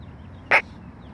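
One short, sharp sneeze bursts out of a quiet outdoor background and stops almost at once, with nothing else heard around it.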